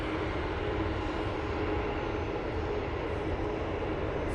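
An EasyJet airliner at Manchester Airport makes a constant, even engine rumble with a faint steady whine, moderately loud and unbroken for the few seconds, and nobody speaks.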